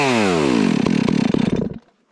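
A chainsaw at loud full revs while logging, its drone then sinking in pitch as the engine slows and sputters, with uneven choppy pulses before it cuts out and falls silent, suggesting a fault.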